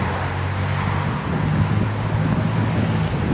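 Breeze blowing along the Ala Wai canal in Honolulu under an overcast sky, a steady broadband whoosh of wind buffeting the microphone, with a low hum of distant traffic beneath and no talk.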